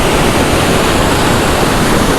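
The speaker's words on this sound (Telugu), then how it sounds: "ఒక్క పైప్ పోతేనే గిన్ని వాటర్ వస్తున్నాయి." Loud, constant rushing water pours hard and without pause, a dense close roar of lake water gushing from a pipe.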